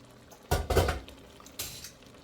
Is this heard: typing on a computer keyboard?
no